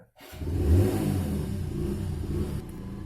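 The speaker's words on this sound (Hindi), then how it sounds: "मेरे पीछे गाड़ी वगैरह आती जाती है तो उसका आवाज़ आ रहा है" Vehicles passing on a road behind someone, a steady mid-pitched engine rumble that swells early then holds at a moderate distance, with no talking.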